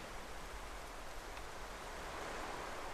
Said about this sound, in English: it's raining now on the beach.